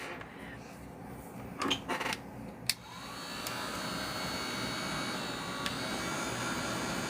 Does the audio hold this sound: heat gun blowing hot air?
yes